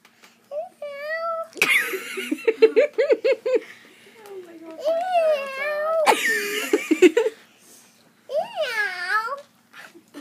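A small child imitates a cat, giving several drawn-out, sing-song meows in separate bursts, with adults talking and laughing between them.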